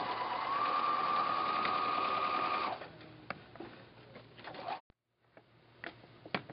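A sewing machine stitches binding onto a quilt, whirring steadily and close for a few seconds before stopping, followed by quieter clicks and handling noises.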